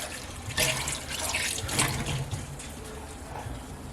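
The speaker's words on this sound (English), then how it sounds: "I'm going to drain the pickles" Pickles being drained in a kitchen sink, with water and brine splashing and trickling steadily for a few seconds, close and moderately loud.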